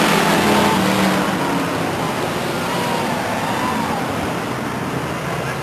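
Stock cars racing at a speedway, a loud continuous roar of engines rising and falling as the cars sweep past, with a broad rumbling wash throughout.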